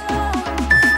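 A workout interval timer beeps in a short, repeated pattern of electronic tones during a Pilates core session, with a sustained tone near the end, heard clearly and without talk.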